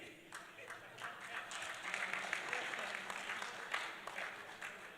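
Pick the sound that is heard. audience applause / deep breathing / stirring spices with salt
audience applause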